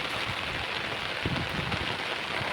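Steady heavy monsoon rain hisses and patters on a surface nearby in a farm field, a dense continuous wash of drops with no voices.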